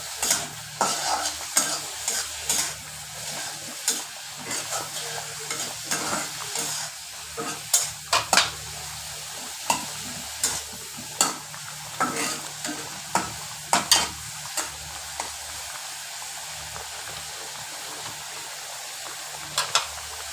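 Onions frying in oil in a pot while being stirred for a beef trotter (paya) stew: continuous soft sizzling broken by frequent scraping and clinking strokes of the spoon, fairly close, with no talking.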